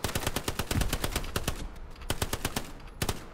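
Bursts of rapid automatic gunfire in a video game firefight, sharp repeated shots in clusters with brief gaps, loud and close with no talking.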